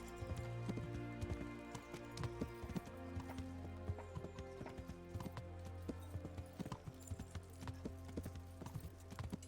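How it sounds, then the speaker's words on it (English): Horse hooves clip-clopping at a steady walk in the medieval game Kingdom Come: Deliverance, continuous and fairly close over a bed of ambient music and game sound. "A horse is not a quiet animal. You can hear it coming, surely."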